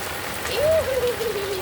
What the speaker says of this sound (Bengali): একটু আগে মানে 2 মিনিট আগে আমি বাইরে বেরিয়ে দেখলাম কি রৌদ্র, দিয়ে ঘরে গেছি, এর মধ্যে বৃষ্টি শুরু।